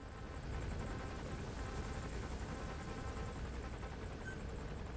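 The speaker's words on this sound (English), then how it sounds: "Support helicopter requested." A support helicopter in Metal Gear Solid V gives a steady, droning rotor whir with a whooshing engine roar, moderately distant and unbroken, with no talking.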